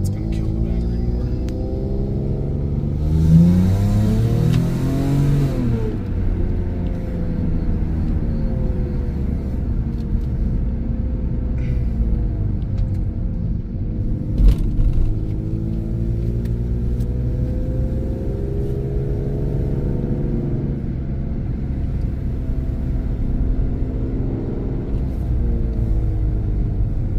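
A cheap Toyota Supra with a questionable motor runs steadily while driving, its engine a continuous mid-low drone with a brief rise in revs early on, carried through the whole stretch under faint cabin noise.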